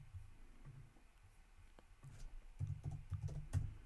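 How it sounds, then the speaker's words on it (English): Quiet, close keystrokes on a computer keyboard arrive in scattered taps, then quicken into a denser burst of typing toward the end over a faint room hum. "I'm just typing in Venus, okay?"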